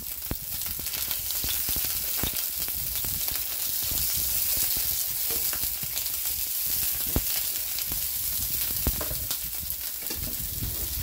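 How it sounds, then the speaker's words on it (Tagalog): Garlic and onion fry in spattering oil, a continuous close sizzle dotted with sharp pops and crackles of oil, steady throughout with no talking. "Lagay na natin yung bawang at saka onion. Ito na naman ang mga mantikang tumatalsik."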